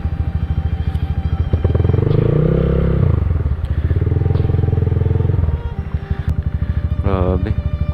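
Motorcycles ride through a deep flooded road, their engines droning and revving steadily alongside splashing and clattering, with a passing horn and people talking nearby.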